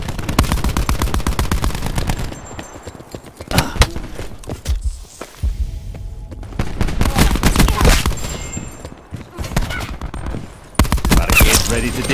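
Video game combat with cluster grenade blasts and rapid gunfire, set on a Morocco map. Loud, dense bursts of shots and explosions fill most of the clip, with a brief quieter gap in the middle.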